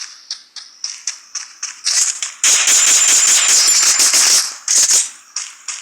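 Rapid gunfire from a shooting video game, with scattered single shots building into a dense sustained burst of automatic fire, then a few more spaced shots, loud and clean with no talk.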